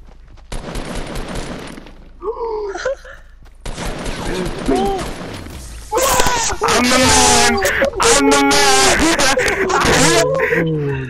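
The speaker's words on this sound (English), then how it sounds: "Just start shooting your grenade launcher" Grenade launcher fire in a video game bursts out in loud repeated blasts, with shouting voices and game sounds mixed over the barrage.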